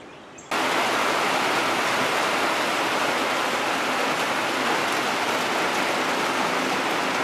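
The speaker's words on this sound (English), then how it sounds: "Hear all the birds and all the water." Floodwater rushes in a loud, unbroken roar with rain falling outdoors at a flooded lakefront, starting abruptly and holding steady throughout, close and alone with no voices.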